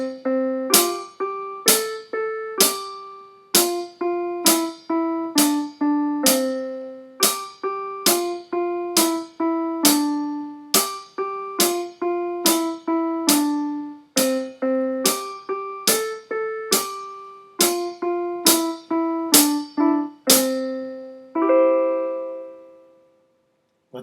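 Twinkle Twinkle Little Star played on a keyboard as a steady string of separate plucked-sounding notes, two per beat, clear and close, ending on a final held note with no talking.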